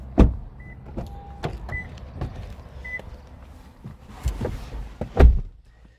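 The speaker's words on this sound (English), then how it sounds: "electric windows in the rear." The electric rear windows of a Toyota Corolla Luna hybrid saloon run up and down, with a steady motor whine between sharp thunks as the glass stops, heard close inside the car.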